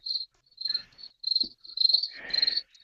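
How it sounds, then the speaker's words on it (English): Cricket chirping plays from a recording in short, shrill, repeated bursts with brief gaps between them, clear and close with no voices. "It's fucking 10 hours of fucking cricket sound."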